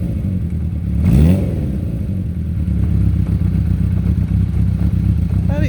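A Kawasaki Z400 motorcycle engine cranks and catches, then settles into a steady, close, mid-pitched idle with a faint mechanical clatter throughout.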